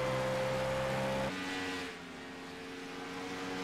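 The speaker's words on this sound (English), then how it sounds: "You hear the tires squealing all the way through the turn." A race car at Kansas Speedway runs through a turn, a loud engine tone that cuts off abruptly and drops into a lower, rougher roar with a brief screech of tires, and no voices.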